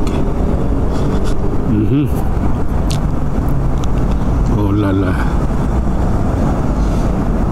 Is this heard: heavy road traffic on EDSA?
yes